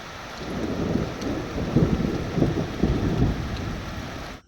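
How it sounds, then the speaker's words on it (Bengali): Heavy rain pours down with deep rolling thunder, a loud dense downpour carrying repeated low rumbling swells across several seconds before cutting off abruptly, with no one speaking. "কিছুক্ষণের মধ্যে একদম ঝমঝম করে বৃষ্টি শুরু হয়ে গেছে, আকাশ ভেঙে পড়েছে।"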